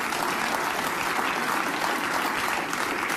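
A studio audience claps throughout in dense, sustained applause that stays loud and even from start to finish, with no voices over it.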